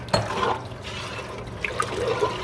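Tap water running into a cooking pot while making zuppa toscana, a close, steady gurgling pour with small splashy rises and drips and no talking.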